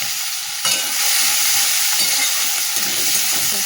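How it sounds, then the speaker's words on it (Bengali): Chopped onion hits hot oil with whole spices and bay leaf, the sizzle jumping up loudly and then holding as a close, steady hiss with light stirring scrapes. "এর মধ্যে একটু পেঁয়াজ কুচি দিয়ে দিলাম"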